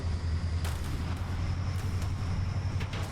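Naval gun shells firing in the ShipCrafter video game, a few sharp booming reports over a steady low engine-like rumble, loud and continuous throughout.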